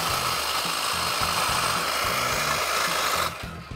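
A battery-powered hedge trimmer cutting a hedge on a slope: a steady, close, buzzing motor with fast rhythmic blade chatter that drops away abruptly near the end.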